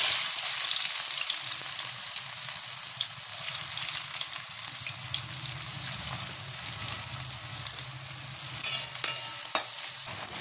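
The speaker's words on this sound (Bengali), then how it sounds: "তার জন্য আমি কড়াই তেল দিয়ে দিয়েছি আর তেলটা গরমও হয়ে গেছে এবার দিয়ে দেবো পেঁয়াজ" Onions sizzling in hot oil in a kadai while cooking chicken tarka, a steady close crackling fry that continues throughout with occasional stirring clinks and no talk.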